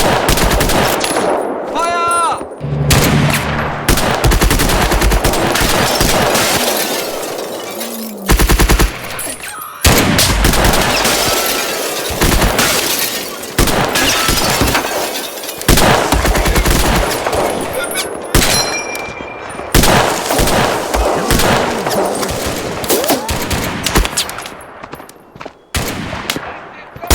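Sustained machine-gun and rifle fire from the Mud and Blood war game, loud and nearly continuous, with bursts and scattered shots layered over each other and brief gaps, plus occasional short voice callouts.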